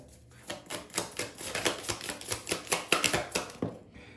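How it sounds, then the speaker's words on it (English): Tarot cards being shuffled and handled before a three-card pull, a rapid series of close, crisp riffling snaps and taps in an uneven rhythm, heard alone with no talk. "I'm going to pull 3 cards for this, okay?"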